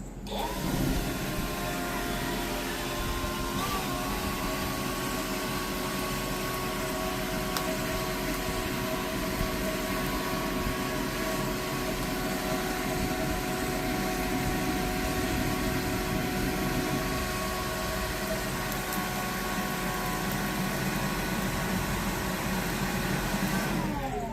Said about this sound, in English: If you'll just get this here leaf blower and stand back a little bit.